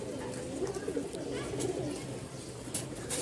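Rajshahi Giribaz pigeons coo in a low, steady murmur at a pigeon sale in Mirpur-1, Dhaka, with soft overlapping calls filling the whole stretch and faint background bustle.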